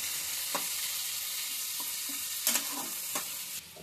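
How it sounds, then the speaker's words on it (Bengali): Onions fried in oil in a pan until browned, giving a soft steady sizzle broken by a few spatula scrapes and taps. "পেঁয়াজগুলো ঠিক ততক্ষণ ভাজতে হবে যতক্ষণ না এগুলি ব্রাউনি হয়ে যায়।"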